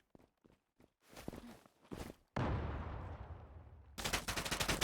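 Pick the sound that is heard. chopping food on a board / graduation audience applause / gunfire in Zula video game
gunfire in Zula video game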